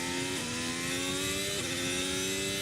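A 2022 Ferrari Formula 1 car at the Dutch Grand Prix qualifying at Zandvoort, its engine note shifting as it goes through the curves, a loud continuous high-revving whine that dips and climbs between gear changes, heard without talk.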